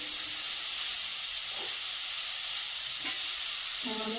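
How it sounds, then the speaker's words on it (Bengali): Vegetables sauté in a pan with a steady, bright sizzling hiss, punctuated by a few soft stirring clinks and a small clatter at the end, with no voices. "সবজিটা বেশ কিছুক্ষণ কষিয়ে নিয়েছি"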